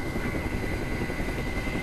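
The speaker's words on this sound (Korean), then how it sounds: "그 시각 헬기는 표지석이 있는 화물 집결지에 도착했다." A helicopter arrives at a mountain cargo collection point with a marker stone, its steady, loud rotor and engine drone filling the scene without pause.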